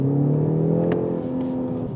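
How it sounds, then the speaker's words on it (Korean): The engine of a BMW 530e plug-in hybrid cutting in under acceleration, a smooth, steady, rising drone heard from inside the cabin, with no one talking. "엔진 소리"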